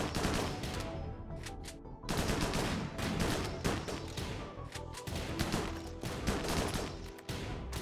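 Rapid automatic gunfire from a firefight in the video game Rimworld, dense overlapping bursts of shots continuing almost without pause and loud throughout, with a few brief gaps.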